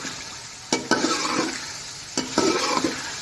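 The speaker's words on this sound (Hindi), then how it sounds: "आपने ऐसा करना है कि इसको अच्छी तरह से फ्राई करना है।" Chicken meat frying with garlic and ginger in a pot over high to medium flame for chicken pulao: steady sizzling with two bouts of spoon stirring and scraping against the pot, close up and without talking.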